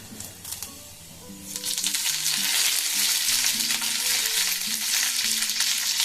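Curry leaves and split dry red chillies hit hot oil over a lowered gas flame, bursting into a loud, dense sizzle that swells after a quieter start and holds steadily, with faint background music.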